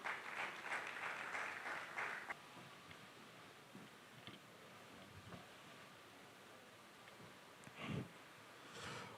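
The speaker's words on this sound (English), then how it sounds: "A round of applause, please." Brief applause at a tech panel on the future of work, a short burst of clapping that stops after about two seconds, leaving quiet room noise.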